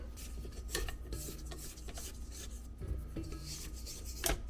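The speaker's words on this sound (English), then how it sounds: "Next we're going to add the softened butter into here and cream it for about 2 minutes." Softened butter being creamed into dry cookie ingredients in a bowl gives a continuous close scraping and rubbing, with small clinks of utensil on bowl and a sharper scrape near the end.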